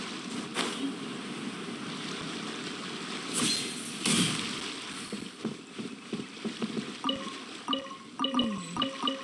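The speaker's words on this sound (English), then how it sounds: "The waves are as calm as always." Calm sea waves in the Genshin Impact video game: soft, steady watery lapping with a couple of louder swells, followed by a run of small splashy clicks near the end.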